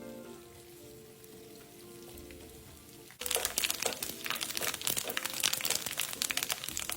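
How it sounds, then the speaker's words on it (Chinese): Anchovies dropped into hot oil over medium heat, with quiet bubbling that suddenly bursts into loud, steady crackling and sizzling as deep-frying begins and keeps going. "倒入备好的江鱼仔，中火一直油炸至金黄色"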